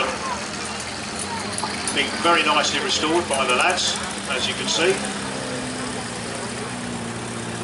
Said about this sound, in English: just coming back with the Land Rover